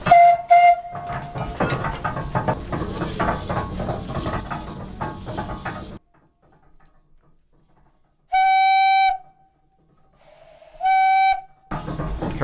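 A wood-fired steam donkey engine chuffs and clanks mechanically up close, then after a pause its steam whistle sounds two loud, bright, sustained blasts separated by a short gap.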